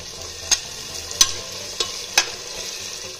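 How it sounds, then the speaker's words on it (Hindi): Garlic ginger paste sizzles steadily in a hot pan for chicken curry, with four sharp taps of a spoon stirring against the pan over the continuous frying hiss. "अब हम इसमें 2 चम्मच लहसुन अदरक का पेस्ट डालेंगे और इसे 1 से 2 मिनट और फ्राई कर लेंगे"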